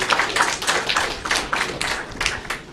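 At a business angel congress, a small audience claps for Karina, moderately loud, rhythmic and fairly sparse, with a few distinct hand claps standing out.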